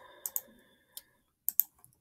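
A handful of separate key clicks on a computer keyboard while text is written into a PDF document, sharp and close, spread unevenly over two seconds against a quiet background.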